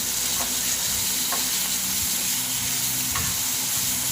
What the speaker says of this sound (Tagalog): Haluin natin hanggang matunaw yung asin.